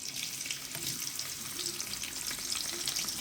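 Oil heats in a pan for frying bottle gourd peel with egg, giving a steady, close hiss and sizzle that crackles continuously without a break.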